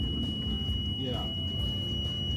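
A steady high-pitched electronic alarm tone rings continuously on a Boston Whaler boat at night, beneath a low rumbling engine drone, with people talking quietly.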